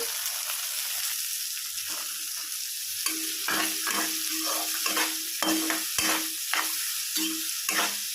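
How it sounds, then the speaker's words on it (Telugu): Chopped onions frying in oil for a ridge gourd curry, with a constant sizzle and a run of sharp, rhythmic spatula scrapes and knocks against the pan in the second half, close and fairly loud. "గోల్డెన్ కలర్ వచ్చే వరకు ఫ్రై చేసుకోవాలండి ఆనియన్స్ని"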